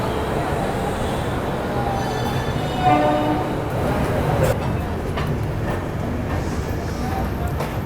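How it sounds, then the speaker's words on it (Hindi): The Kanyakumari–Hazrat Nizamuddin passenger train stands at platform 2 at Agra Cantt station, with a continuous rumbling platform din, a brief horn-like tone in the middle, and people talking throughout. "ये है भाई कन्याकुमारी हज़रत निज़ामुद्दीन, प्लेटफार्म नंबर 2 पर अब अराइवल हुआ है इसका।"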